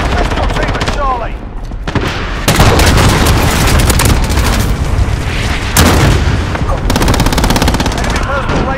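Dense, loud video game gunfire in a multiplayer shooter, rapid automatic bursts and booming explosions crowding together with brief pauses between volleys.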